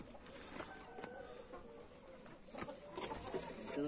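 Roosters and chickens cluck and call inside a coop, a steady jumble of fowl voices with a few sharper cries near the end, close and fairly loud under faint background noise.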